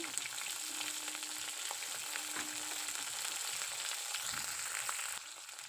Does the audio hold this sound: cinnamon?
yes